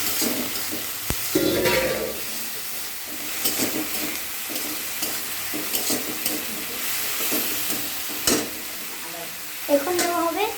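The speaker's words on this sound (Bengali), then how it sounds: "কষিয়ে নেওয়া হচ্ছে।" Eggs with salt sauté in a hot pan, giving a continuous sizzle and hiss as a utensil stirs and scrapes, with occasional louder clicks and clatters against the pan.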